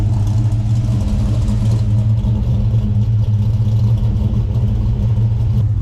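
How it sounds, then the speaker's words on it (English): An LS1 V8 with an aftermarket cam in a VN Commodore runs loud and close on a dyno, a steady deep lumpy rumble with little change in pitch and no clear rev spikes, with no talk over it. "for the first time this is actually what this cam sounds like without the ghost cam bullshit"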